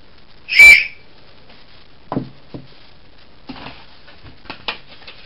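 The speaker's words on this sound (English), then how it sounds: "This torch has got a whistle light." One short, loud, shrill blast from a whistle built into a survival kit torch, followed by a few quiet clicks and taps of handling.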